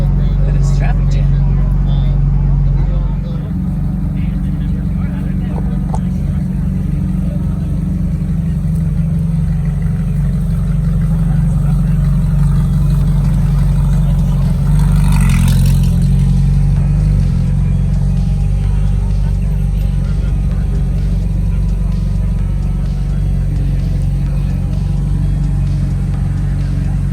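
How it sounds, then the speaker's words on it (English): Cars idling and creeping forward in a traffic jam at an American supercar event, a loud, steady low engine rumble throughout, with a brief louder burst midway. "Look at this traffic jam."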